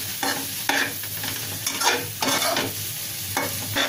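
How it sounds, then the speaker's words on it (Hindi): Paneer masala being stirred and fried in a pan, with a steady sizzle broken by several bursts of spatula scraping and stirring, close and fairly loud, with no talking. "पनीर डालने के बाद इसको सिर्फ दो मिनट और भूनेंगे"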